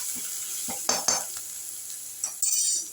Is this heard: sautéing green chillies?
yes